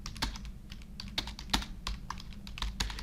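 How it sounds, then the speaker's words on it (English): Text being typed on a computer keyboard: irregular, crisp key clicks in quick bursts with short pauses, close and fairly quiet, no voice. "Just type in some text."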